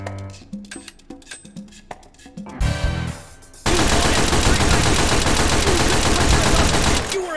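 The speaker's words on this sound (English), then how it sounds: "The submachine gun works like an open bolt weapon." A Team Fortress 2 submachine gun in the VR shooter H3VR, first heard as a handful of separate clicks and sharp shots, then a loud, continuous burst of automatic fire lasting several seconds.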